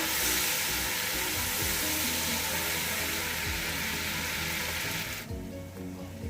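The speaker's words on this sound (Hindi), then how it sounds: "1 चम्मच भरकर लहसुन अदरक का पेस्ट ऐड करेंगे। मिक्स करेंगे इसको।" Garlic ginger paste sizzling as it is stirred into hot onions in a pot, a steady loud crackle with scraping that cuts off sharply near the end, leaving a quieter hiss.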